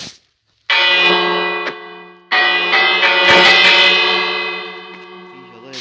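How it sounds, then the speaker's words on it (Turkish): A Minecraft village bell rings out in two long, resonant strokes with a lingering metallic ring, loud and close, the second swelling and slowly fading. "Şu zili çalalım evlerine dönsün."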